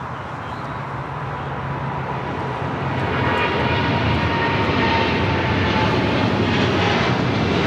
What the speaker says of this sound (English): This is China Airlines Cargo